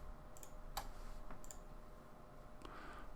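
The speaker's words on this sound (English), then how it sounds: "So I'm going to click add here." A few faint, sharp mouse clicks spaced apart, pressing an Add button in a software interface, close by against a quiet background.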